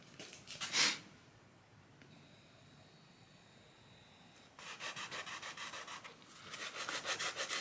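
Goo Gone rubbed by hand onto the liner of a vintage AMF-era Harley-Davidson, a soft scuffing rub near the start followed later by a run of quick, close, rhythmic rubbing strokes.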